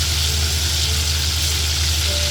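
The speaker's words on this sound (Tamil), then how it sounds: "முதல்ல ஒரு கடாயில் எண்ணெய் காய வச்சு இந்த கருவாடு எல்லாத்தையும் போட்டு ஒரு அரை பொரியலாக பொரித்து எடுத்துக்கோங்க" Dried seer fish (vanjiram karuvadu) fries in hot oil in a kadai, a loud, close and continuous crackling sizzle under a low steady hum, with no talking.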